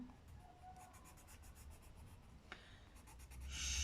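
A colored pencil rubs across paper in a coloring book, soft rapid back-and-forth scratching strokes, close and faint, with no one talking.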